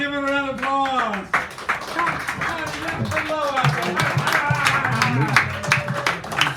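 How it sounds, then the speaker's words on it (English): A café poetry-hour audience claps for a poet, with scattered hand claps pattering beneath a steady stream of nearby talking voices. "give him a round of applause"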